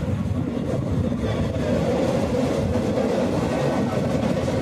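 The Pandharpur–Nizamabad Express runs along a winding track through hilly ghat country, a constant loud rumble and rattle of carriages heard from on board, steady throughout with no speech.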